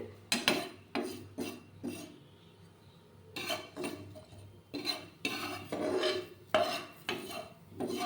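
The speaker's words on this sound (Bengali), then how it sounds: "এগুলো এবার শুকনো খোলায় শুকনো তায় ভালোভাবে নাড়তে হবে" Taro pieces stirred in a dry pan with no oil, a spoon scraping and clinking against the metal in repeated bursts with short pauses between strokes.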